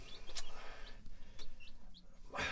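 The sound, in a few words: young chickens peeping and clucking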